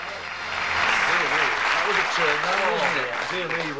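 Studio audience applauding on the Bullseye darts game show as two contestants, John and David, join the host at the podium; steady dense clapping throughout with music and a voice running underneath.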